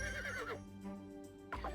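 A horse in the Barbie Horse Adventures video game gives a clear, wavering neigh that trails off, and a second whinny starts near the end. The sound is close and moderately loud, with no speech.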